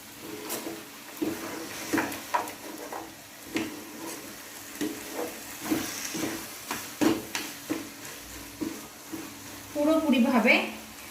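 Bottle gourd and prawns with garam masala stirred in a pan, making rhythmic scraping strokes over a low sizzle, with a voice speaking briefly near the end.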